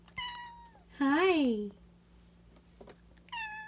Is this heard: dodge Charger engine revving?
no